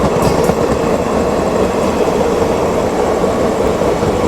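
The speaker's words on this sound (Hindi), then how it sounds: "यहाँ भी कोई ट्रेन जो है जा रही है, ये कोई एक्सप्रेस ट्रेन है" An express train rolls past at close range, a loud continuous rumble with rail clatter and rushing noise that holds steady throughout, with no voices.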